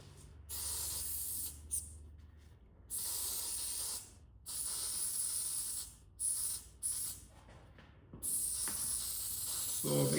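Fluorescent penetrant sprayed from an aerosol can onto test samples during a penetrant inspection with hydrophilic emulsifier, heard as several hissing bursts of a second or two each, separated by short pauses, close and fairly loud.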